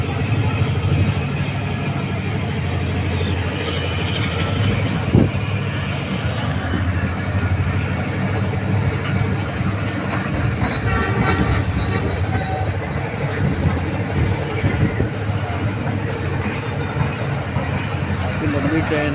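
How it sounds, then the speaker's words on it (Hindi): A long Pakistan Business Express passenger train with many coaches rolls into Landhi station, a loud, steady rumble and clatter of wheels on rails lasting throughout, with people talking over it. "काफी लंबी ट्रेन है बोगियाँ ज़्यादा हैं इसमें"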